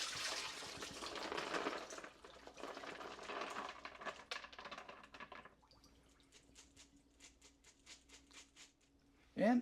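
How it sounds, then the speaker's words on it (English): Rinse water drains out of a container of almonds through a strainer, a steady pour that splashes and then thins into scattered drips, close and fairly quiet. "Okay, now we'll strain the water."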